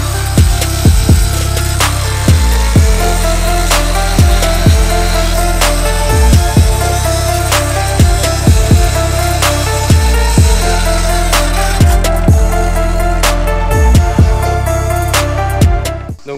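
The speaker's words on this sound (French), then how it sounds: "Vu que c'est une coupe droite on va utiliser une scie circulaire." Circular saw cutting wood planks for a DIY skate ramp, a loud continuous whining drone with repeated sharp bursts as the blade bites through, close and alone until it winds down at the end.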